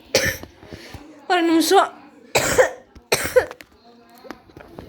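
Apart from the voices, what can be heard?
coughing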